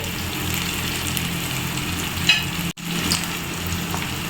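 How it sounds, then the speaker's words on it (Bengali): Hilsa fish in mustard masala fries in a pan with a steady, fairly loud sizzle and hiss. The sound drops out for a moment partway through, then resumes. "মাছ ও মশলাটা আমার এক মিনিটের মতো কষে নেওয়া কমপ্লিট"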